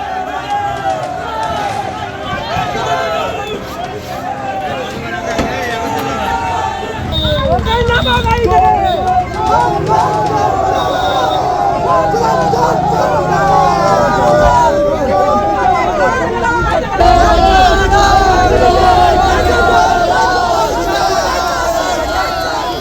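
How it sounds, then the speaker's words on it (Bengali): A crowd outside a police station chants 'thief, thief' at an arrested Trinamool councillor from Budge Budge ward 12, loud, continuous overlapping voices rising and falling in rhythm throughout. "ধৃত মিঠুন টিকাদারকে থানা থেকে বের করার সময় উঠল চোর চোর স্লোগান"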